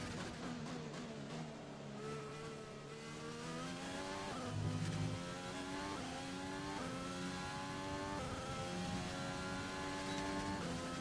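A Formula 1 car in the F1 2020 video game screams at speed down a straight, its engine pitch climbing through repeated upshifts for about eleven seconds, loud and continuous.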